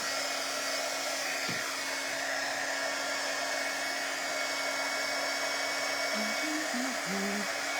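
A hair dryer drying a silk-screened design on an egg, blowing as a steady close whir for the whole stretch, with faint small knocks and tones in the background and no talking.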